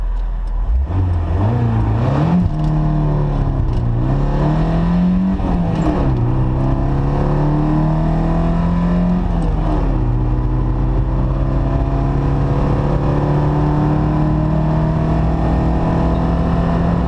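A car accelerates hard on a timed acceleration run with modified rear gearing, its engine climbing through several gears with audible shift dips before settling into a loud, steady high-revving drone, heard from inside the car.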